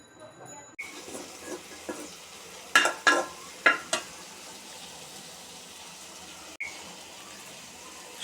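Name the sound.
sautéing beans and potatoes with salt, turmeric, chili, cumin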